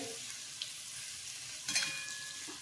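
Fried potato slices with coriander are stirred in a pan, giving a quiet, steady sizzle with a brief scrape and clink of the utensil partway through, and no one speaking.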